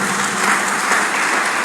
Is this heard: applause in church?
yes